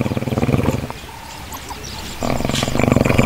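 A lion in the Serengeti gives deep, throaty rhythmic roaring grunts, close and loud, that pause for a moment and then resume in a pulsing series.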